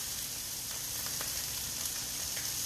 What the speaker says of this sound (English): I am cooking kind of like a stir-fried quinoa dish.